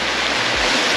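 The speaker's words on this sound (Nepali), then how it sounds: "सो गाइस पानी परिरहेको छ" Rain falls on a mountain trek, giving a dense, continuous hiss with some low rumble, loud and close throughout with no voices.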